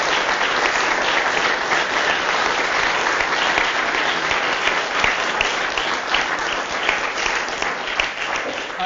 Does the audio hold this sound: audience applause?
yes